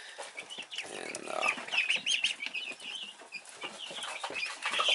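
Baby ducks of five different breeds crowd together in a brooder, giving off a steady chorus of high, overlapping peeps and chirps at close range that continues throughout without a break.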